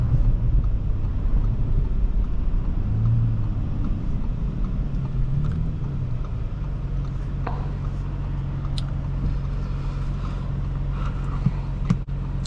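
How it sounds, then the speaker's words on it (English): A 2021 Audi S6 2.9T engine drones low, then swells and rises in pitch as the car accelerates hard in launch mode. The engine settles into a steady rumble afterward. "Let's do launch mode."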